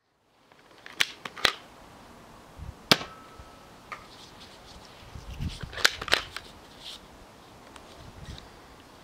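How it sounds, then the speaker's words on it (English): Nerf Star Wars First Order blaster firing foam darts outdoors on a lightly breezy day, several sharp isolated snapping shots spaced a second or more apart, fairly close against soft wind. "let's just see how I do with the blaster outside for a range test"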